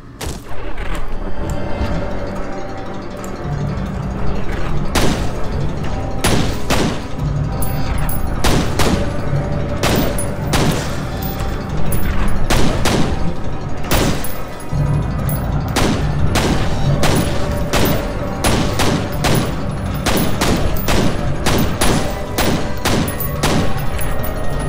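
Gunfire in the shooter game F.E.A.R. cracks out in loud, dense bursts of shots and heavy booms. The volleys repeat steadily with only brief gaps between them.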